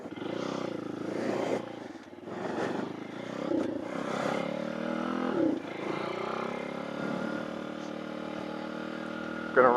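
A Tao Tao DBX1 dirt bike engine runs close by, its tone rising and falling as it revs and settles into a steady idle.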